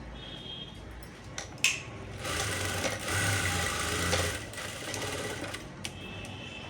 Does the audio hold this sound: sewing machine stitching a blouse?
yes